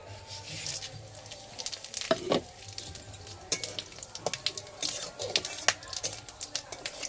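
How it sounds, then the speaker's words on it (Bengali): Bay leaf, whole garam masala, dried red chillies and cumin seeds frying in hot oil, a steady close sizzle with sharp spattering pops scattered throughout. "এবার এখানে আমি ফোড়নের জন্য একটা তেজপাতা, গোটা গরম মশলা, দারচিনি, লবঙ্গ আর এলাচ আর দুটো নিয়েছি শুকনো লঙ্কা আর একটু সাদা জিরে"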